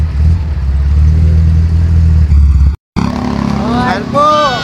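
A motorcycle engine runs loud and close with a steady, rough drone. It cuts out briefly in the middle, and people talk over the engine throughout.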